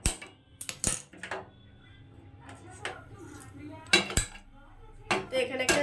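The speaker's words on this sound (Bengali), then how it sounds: "তো এখানে একটা জালি আমি বসিয়ে দিয়েছি, লোহার জালি" An iron mesh grill grate is set down on a gas stove, producing several sharp metallic clanks and rattles with quiet gaps between them, close and fairly loud.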